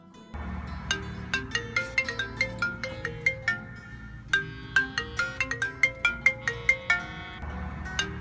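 A phone ringtone sounds for an incoming call, a repeating melodic tone pattern of plucked notes in a steady rhythm, moderately loud and alone with no talk.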